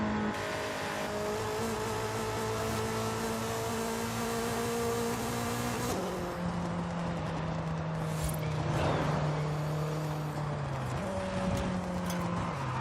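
A front-wheel-drive Nissan Sentra Nismo in Forza Horizon 5 holds a loud, sustained engine drone, with a sharp upshift partway through, then revs and roars onward with no one talking.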